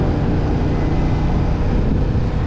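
A 2024 Yamaha MT-07 motorcycle on its original stock exhaust, a quiet 700 cc engine giving a steady, loud low rumble with wind noise throughout and no speech.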